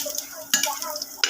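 Ginger stirred in a cooking pot for tinola with young coconut, a brief close burst of utensil clatter and scraping over a faint sizzle, with two sharper knocks.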